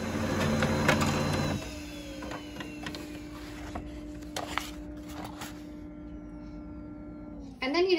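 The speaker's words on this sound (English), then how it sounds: "And we're gonna hit print." A home inkjet-style printer feeding and printing a graphic onto fabric: a loud mechanical whir for the first second or so, then a steadier motor hum with intermittent clicks and carriage sounds, rising again at the end.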